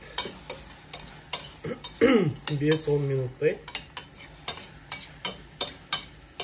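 A utensil stirs an apple mixture in a frying pan, making regular scraping taps about twice a second over a light sizzle. A voice speaks briefly in the middle.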